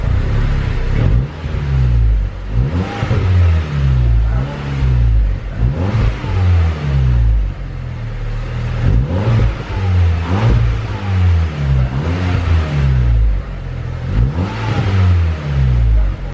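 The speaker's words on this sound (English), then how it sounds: "But yeah, I'll give you guys some revs now." Golf GTI petrol engine with a decat downpipe fitted, untuned and warmed up, revved repeatedly from idle in loud close bursts, each rising and falling with a throaty rasp between short idle pauses.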